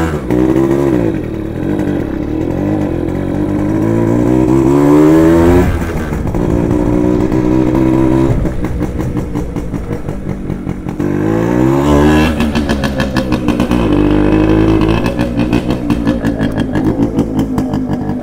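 Motorcycle engine starts and revs, rising and falling through repeated throttle blips with idling between, loud and close for the whole stretch, with no talking.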